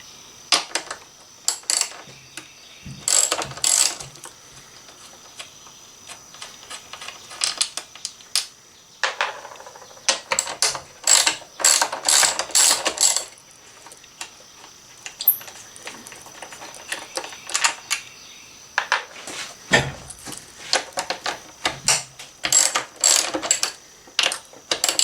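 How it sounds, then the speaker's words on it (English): A ratchet with a 10mm socket clicks in bursts of rapid strokes while removing bolts from a Honda CRF250L during a tail light and fender eliminator install, close and metallic, with short pauses and occasional clinks between runs. "we're going to use a 10mm socket on these to take out these bolts"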